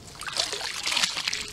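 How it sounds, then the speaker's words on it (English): Pool water pours into a container for a cyanuric acid test kit, a steady close trickle and splash with no talk. "I'm going to get 4 ounces of pool water here."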